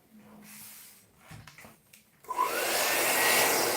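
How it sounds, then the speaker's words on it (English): Hair dryer blowing on a man's hair while it is shaped with a round brush, switching on partway through as a loud steady rushing whoosh after quieter shuffling. "I'm going to use a round brush for this and my hairdryer."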